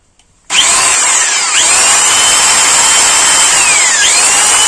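A Planet Power ED 10 handheld polisher, freshly repaired, switches on abruptly after a moment of silence and runs steadily with a loud, even motor whine and slight pitch wobbles, alone with no talking.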